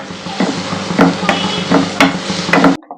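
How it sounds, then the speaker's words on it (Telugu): Chopped onion pieces sizzle steadily in a pan for an egg curry, with a utensil scraping and stirring through them in regular strokes about twice a second, close and fairly loud, without talk. "కట్ చేసినటువంటి ఆనియన్ ముక్కల్ని వేసుకొని కొద్దిసేపు బాగా మెరూన్ కలర్ వచ్చే విధంగా కొద్దిసేపు ఫ్రై చేసుకుందామండి"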